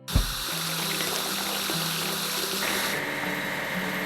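Water sprays steadily over a grader in a children's construction video game, a continuous hiss and rush with a low pumping hum that brightens partway through, alone without talk.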